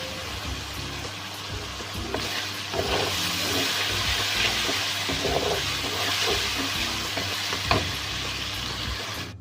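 Chicken browning in a pan for dhaba-style maash daal, crackling and sizzling steadily close up, with scattered stirring knocks and spatters and a low hum underneath.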